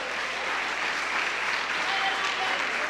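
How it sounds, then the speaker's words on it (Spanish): A church congregation applauds loudly for the Lord during a Spanish-language sermon, steady dense clapping from many hands filling the room throughout, close and continuous without pauses. "puede dar un aplauso fuerte al Señor"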